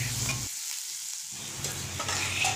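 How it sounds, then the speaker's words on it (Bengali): Onion and garlic fry and sizzle in a pan while being stirred. A steady close hiss and crackle drops away briefly partway through, then returns with scraping stirs. "পেঁয়াজ রসুন দুটোকে ভালো করে ভাজি করে নিয়েছি"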